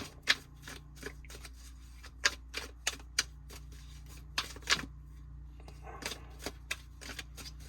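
Tarot cards are shuffled by hand in a quiet room, a series of crisp, snappy riffles and taps arriving in irregular bursts, close and fairly soft against a low steady hum.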